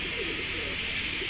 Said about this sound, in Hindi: इस तरह का सारनपुरी क्रॉस कबूतर है